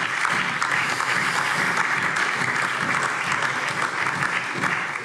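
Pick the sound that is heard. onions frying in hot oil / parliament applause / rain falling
parliament applause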